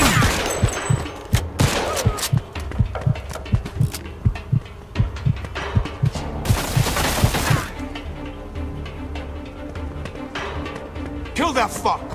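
Gunfire in the video game Mafia 2 Definitive Edition during a shootout with fake cops, with loud rapid shots and bursts over a low rumbling score, while voices shout throughout.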